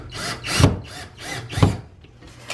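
Power drill in use on a home project, running in several short bursts of whirring that rise and cut off in a fairly regular rhythm, loud and close, with no talk.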